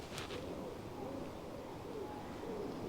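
A pigeon cooing close overhead on a walk along the Bath skyline, soft low hooting phrases repeating over steady outdoor background noise, with no speech.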